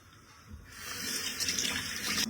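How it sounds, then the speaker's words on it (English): A kitchen tap runs steadily over a bunch of fresh coriander being rinsed, the water splash growing brighter and fuller as the leaves are moved under the stream, close and alone. "I'm just going to give this bunch a wash."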